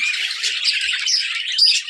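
Budgerigars squawk and chatter nearby, a continuous stream of shrill, scratchy calls with several overlapping birds and no pauses.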